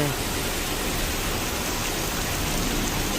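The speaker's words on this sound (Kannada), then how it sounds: "ಗೋವಾ ಬಂದ್ರೂ ಮಳೆ ಬಿಡ್ತಾ ಇಲ್ಲ" Heavy rain in Goa hisses steadily and evenly, a dense wash of noise with no pauses.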